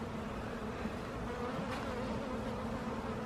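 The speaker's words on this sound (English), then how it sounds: "Oops. I grabbed a bee." Honey bees buzz steadily in a dense, continuous drone close by during an August hive inspection and honey harvest, with no speech over it.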